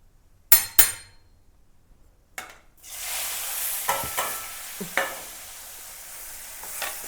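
Cumin seeds drop into a hot pan with a couple of sharp metallic clinks, then a steady sizzle rises as a spoon stirs, with a few more clinks of utensil against the pan.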